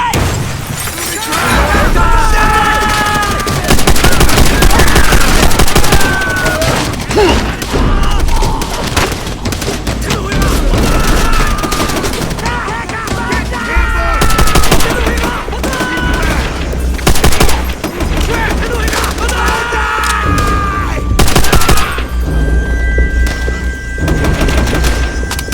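Combat in the Call of Duty: World at War mission Hard Landing, with loud, dense gunfire and crashing blasts filling the whole stretch, a grenade explosion among them, as shouting voices come through the din.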